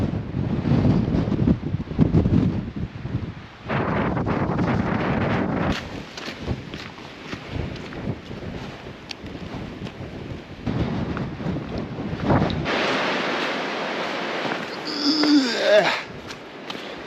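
Strong wind buffets the microphone on an exposed hillside walk near Simon's Seat in the Valley of Desolation, a steady loud roar with gusty surges throughout, and a brief voice near the end.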